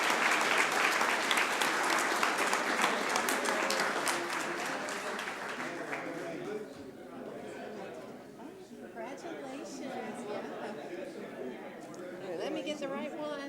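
Audience applause at a city council meeting, a dense wash of clapping that starts loud and then gradually thins and softens, with chatter and voices mixing in as it fades.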